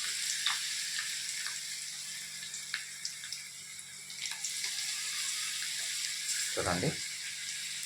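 Chicken kababs fry in hot oil with a steady, fairly quiet sizzle and scattered crackles, a brief clunk near the end, and someone speaks over the cooking.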